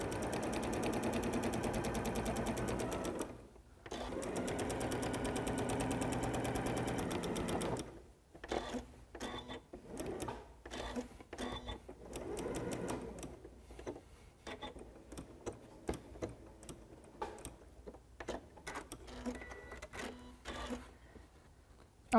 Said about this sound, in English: I'm just going to continue working around each letter, applicating it in a straight stitch for the whole happy birthday words.